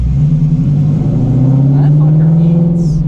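An 800-horsepower Shelby GT350 Mustang engine pulls hard under acceleration from inside the car, a loud, steady low roar that climbs slowly in pitch over a few seconds.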